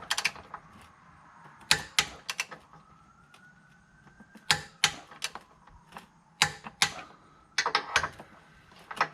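A torque wrench tightens differential bolts on an SRT Hellcat during a Per4mance DIRS diff install, giving loud, sharp metallic clicks and ratcheting in separate clustered bursts with quiet gaps between them.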